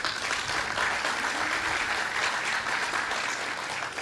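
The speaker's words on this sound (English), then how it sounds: "let's give him a round of applause" An audience at a groundbreaking ceremony for 3 Hudson Boulevard applauds, a dense, steady wash of clapping that holds evenly from start to finish with no voices over it.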